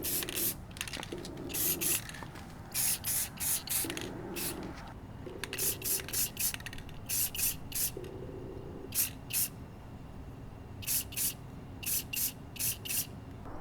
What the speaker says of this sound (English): Now I'm just gonna spray some paint to prevent rusting.